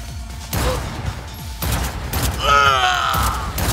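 Gunfire in the video game Cyberpunk 2077 Phantom Liberty, a few heavy bursts and thumps with a whining electronic tone late on, loud and close amid game sound effects.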